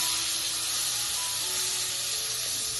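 Minced garlic sizzles in melted butter with a steady, even hiss that stays close and continuous throughout, with no voices over it.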